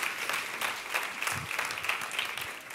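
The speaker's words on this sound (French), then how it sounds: "oui, on peut applaudir notre Seigneur Jésus" A church congregation claps during a sermon, producing steady, moderately loud applause with a fairly even rhythm throughout.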